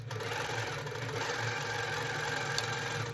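A Handi Quilter Pro Stitcher quilting machine runs steadily, stitching with a fast, even mechanical hum and rapid needle chatter, close and continuous, with no speech.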